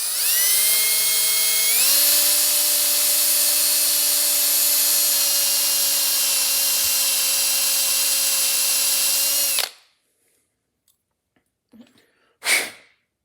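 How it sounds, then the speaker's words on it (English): A step drill bores steadily through old, rusted steel brake line tubing on a 1999 Chevy 1500 truck, a loud sustained whine that rises once in pitch early on, then cuts off abruptly, leaving near silence and a few faint clicks. "the first thing I have to do is use my step drill and drill those out"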